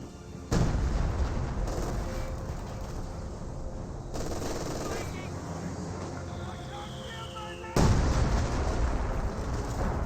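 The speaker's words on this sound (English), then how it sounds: "While receiving artillery fire" Artillery shells and rapid gunfire from the Company of Heroes 2 video game boom and crackle in heavy bursts, with loud impacts at the start and near the end over a continuous battle din.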